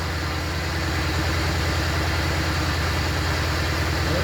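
A car engine idles steadily at close range, its low, even pulsing running without pause while it pumps air into a tire through engine compression.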